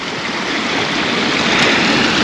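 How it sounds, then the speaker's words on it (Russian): The swollen Psezuapse river near Lazarevskoye, Sochi, rushes past close by in a loud, steady roar of churning water with no break and no voices. "река Псизуапсе приподнялась малость"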